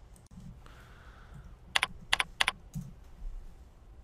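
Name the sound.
computer keyboard typing search criteria into a directory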